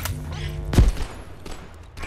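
A charged gun firing in the video game Abiotic Factor: one heavy, booming shot rings out sharply at close range amid a faint game background.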